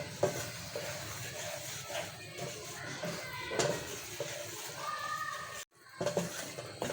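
Wheat flour roasting in a pan for harira, with a gentle dry sizzle and scraping spoon strokes and light pan clinks, fairly quiet and close, cut by a brief silent gap near the end.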